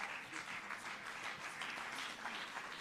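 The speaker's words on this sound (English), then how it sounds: "A warm round of applause for our" An audience at an agriculture and agro-processing recognition awards ceremony gives a warm round of applause for farmers. The clapping is dense and steady, filling the hall with no speech over it.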